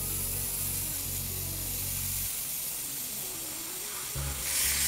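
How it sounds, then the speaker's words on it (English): Airbrush spraying paint around stencils on woodturning art, a steady close hiss of air that runs throughout and swells louder near the end, with no talk. "Get used to knowing how much pressure to put on your trigger to make sure the air and the paint comes out in the right mixture."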